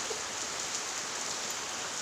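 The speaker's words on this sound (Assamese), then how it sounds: "বৰষুণ দিছে।" Steady rainfall makes a continuous, uniform hiss with no voices or other distinct sounds.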